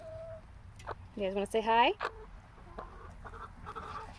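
Backyard chickens cluck and squawk in a short burst close by, with a person speaking softly to them over a quiet outdoor background.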